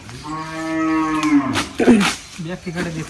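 Cattle on a farm give one long, loud, drawn-out moo close by, followed by a shorter grunting low and then softer broken lowing.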